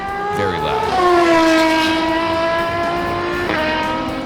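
Aston Martin Valkyrie V12 race car at an IMSA twelve-hour endurance race, its high-revving engine shrieking loud and near as it upshifts, then holding a sustained wail before another quick gear change.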